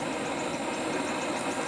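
The drive motor of an oxy-fuel plate cutting machine runs with a steady, even hum and a broad hiss behind it, constant and close, with no voices.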